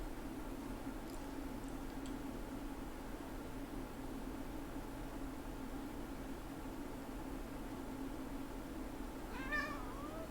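A cat meows softly a few times, faint and brief chirps, with a louder meow near the end over a quiet steady background hum.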